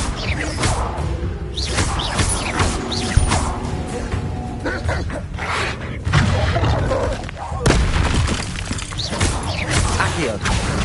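A fire spell is cast in Hogwarts Legacy, surrounded by dense, loud whooshing and crackling game effects that run continuously, along with blasts and a sharp burst near the middle.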